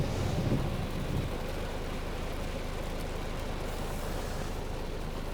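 Steady rain falls through the whole stretch in a broad, even hiss with a low rumble near the start, heard while waiting out a downpour on a road trip through Sweden in a van, with no voices.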